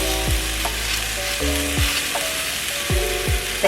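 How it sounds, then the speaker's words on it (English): Vegetables and herbs go into a hot pot of onion and garlic for braised beef shanks, setting off a loud, steady sizzle with a few clanks of stirring, close and continuous. "You can go ahead and add your veggies to the pot back here."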